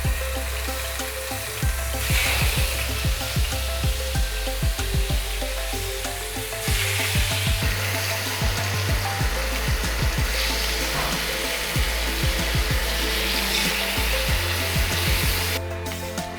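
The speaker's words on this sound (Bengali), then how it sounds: "তেল গরম হয়ে গেছে, এবার হালকা করে নুন হলুদ মাখানো ইলিশটা ভাজবো।" Salt-and-turmeric-coated hilsa fish frying in hot mustard oil, giving a loud, steady sizzle and crackle that runs unbroken and close throughout, with no voices.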